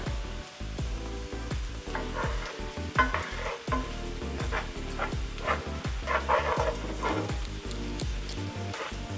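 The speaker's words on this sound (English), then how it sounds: "We're gonna now add our minced celery and our garlic." Minced celery and garlic hit a buttered frying pan for smothered pork chops, crackling and sizzling under repeated scraping stirs, with a dog barking intermittently nearby.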